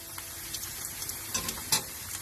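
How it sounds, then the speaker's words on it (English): Onions frying in oil give a faint, steady sizzle with a few soft stirring scrapes and small crackles, heard close and alone. "we'll just wait for the onions to cook"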